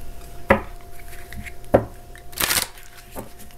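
A deck of tarot cards is shuffled in several quick riffling bursts, crisp and close, with short pauses between them and no talking.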